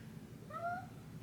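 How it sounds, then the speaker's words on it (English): A house cat gives a single short, rising-and-falling meow, fairly faint against a low indoor hum, with nobody speaking. "Cat."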